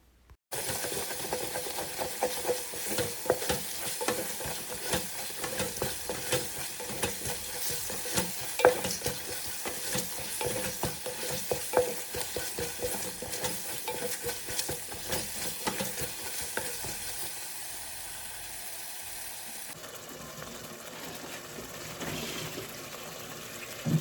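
Spices are stirred into sizzling biryani gravy in a pan, with steady scraping and stirring over a continuous close frying crackle that quiets near the end.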